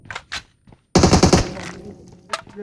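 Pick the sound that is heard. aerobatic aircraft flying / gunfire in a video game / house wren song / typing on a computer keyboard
gunfire in a video game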